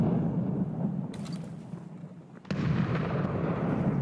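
Grenade blasts in the game Escape From Tarkov, two booming explosions a little over a second apart, each followed by a rumbling, noisy tail.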